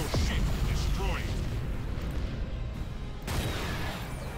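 A ship exploding in the space combat game Battlefleet Gothic Armada gives a loud, sustained rumbling blast with crackling, artillery-like bursts and a renewed surge near the end, while a voice talks over it.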